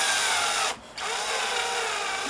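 A cordless power drill with a dying battery whines steadily at high pitch drilling wood, stops briefly, then resumes and runs on continuously, close and loud.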